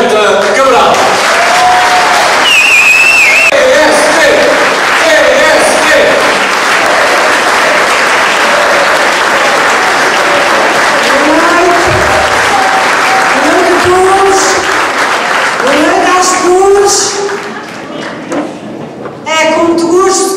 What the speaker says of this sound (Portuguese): peço uma grande salva de palmas para a próxima Presidente do Governo dos Açores, Berta Cabral